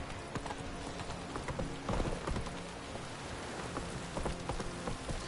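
Roach the horse galloping in a video game, quick rhythmic hoofbeats pounding steadily through falling rain, moderately close and fairly quiet overall.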